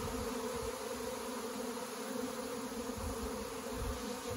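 A small fall swarm of honeybees with a queen out of the hive, a dense, steady buzzing hum from many bees close to the microphone, continuous and even with no speech.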